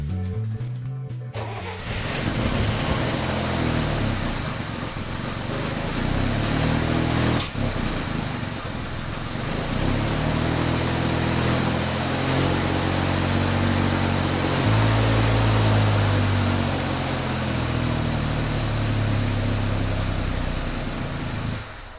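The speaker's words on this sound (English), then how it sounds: "Let's try out the exhaust with the muffler on." A Chevrolet Corvair engine starts and runs with the muffler fitted, settling into a steady, throaty exhaust drone with a lumpy low pulse, loud and close, for about twenty seconds without talk.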